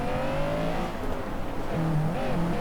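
A small supercharged Honda-style VTEC four-cylinder of about 220 horsepower in the racing game Forza Horizon 3 revs hard around 5,000 RPM, its engine note steady and loud with a shifting pitch and no voices over it.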